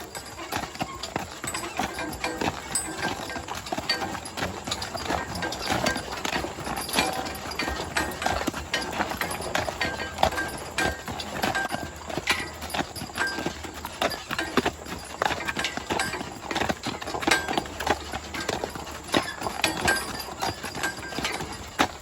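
A team of Percheron draft horses clip-clops along a road at a steady walk, many hoofbeats overlapping in an even rhythm over a faint background rumble.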